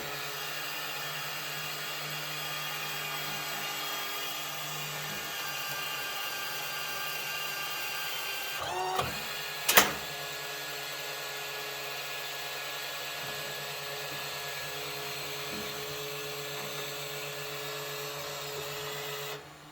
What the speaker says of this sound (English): it'll feed these sheets out until it has the machine empty